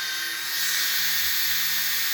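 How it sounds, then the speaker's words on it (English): A power drill spins long bolts out of the control arms of a Redcat Shredder RC car: a steady, high, whining drone that swells slightly after a moment and holds close and loud. "there's a reason I use a drill, and you'll see why here in a minute"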